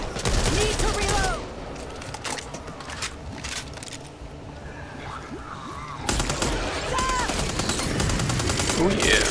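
Rapid gunfire in the zombie shooter game Back 4 Blood, fast repeated shots over a dense, noisy game soundscape with shrieks and clatter, fairly loud throughout.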